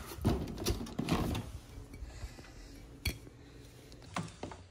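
Glass bottles clink and knock against each other while mead is being bottled, a scatter of irregular, close, bright taps and rattles with quieter handling noise between them.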